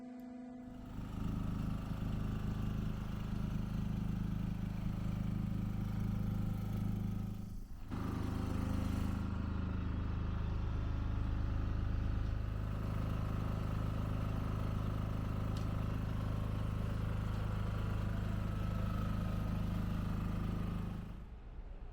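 A machine's engine runs steadily while replaced hydraulic rams are tested, a low droning hum holding throughout with a brief dip in the middle and no talking.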